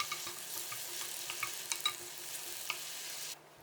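A spoon stirs a sauce of mirin, water, vinegar and sugar in a pan. Steady close scraping comes with a faint sizzle and a few light knocks, then it cuts off abruptly near the end.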